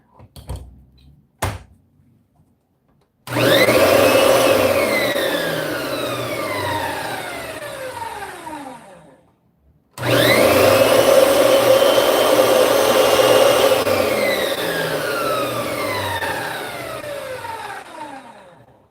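A reassembled Kirby upright vacuum cleaner switches on with a couple of clicks, then its motor roars up loudly and winds down with a falling whine; it is started a second time and runs again, close and alone.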